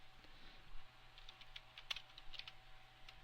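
Fingers type steadily on a computer keyboard while entering ActionScript 3 code, a quiet run of irregular close key clicks over faint room hum.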